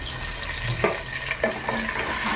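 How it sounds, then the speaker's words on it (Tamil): Onions frying in a pan for mutton bone dalcha, a steady close sizzle broken by a few sharp stirring scrapes and clacks. "வெங்காயம் நல்லா தகுந்து வரணும்"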